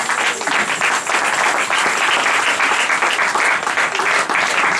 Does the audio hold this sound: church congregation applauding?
yes